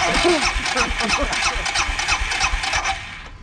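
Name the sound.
motorcycle engine cranking and starting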